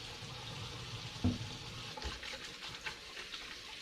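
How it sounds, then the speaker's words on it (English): A kitchen tap runs steadily while hands are washed beneath it, a soft continuous hiss with a brief splash or knock near the start, heard close and alone. "Wash my hands."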